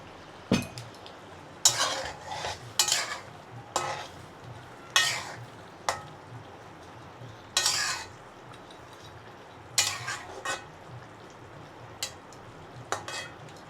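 Puiya fish cooks in a pan over a low, constant sizzle, with sharp metal spatula scrapes and clanks against the pan every second or two, close and alone with no talking.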